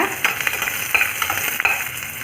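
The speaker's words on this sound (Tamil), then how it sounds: "எண்ணெய் காஞ்சோன்னு சின்ன வெங்காயம் போட்டுக்கோங்க" Shallots crackle and sizzle steadily in hot oil, close by, with a few soft stirring scrapes.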